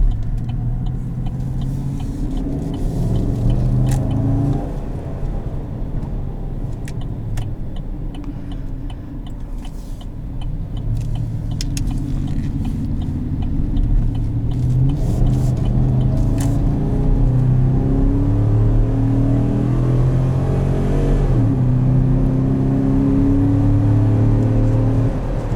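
Cabin view of a 2017 Chevrolet Silverado 2500HD with the 6.0 engine accelerating, a deep throaty drone swelling steadily as the truck climbs through the gears, with light ticking and road whir underneath and no talk.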